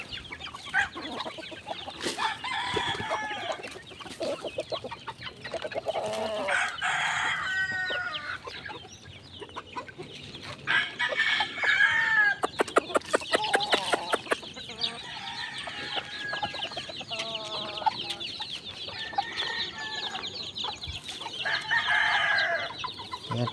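Chickens and chicks cluck and cheep close by as feed is scattered on dry ground, with repeated clucking bursts and occasional crowing-like calls throughout.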